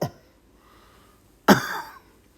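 A single harsh cough rings out up close after a brief quiet breath, trailing off quickly into silence.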